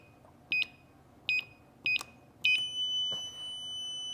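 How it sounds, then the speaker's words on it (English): A door keypad lock alarm gives three short, sharp electronic beeps at even intervals, then a fourth beep that stretches into a steady continuous tone, heard close up over a quiet background. "you can see I get this red light and this alarm"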